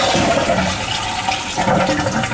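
A Kohler toilet flushes after its leaking gasket has been replaced, a loud, close rush of swirling water that carries on steadily to the end.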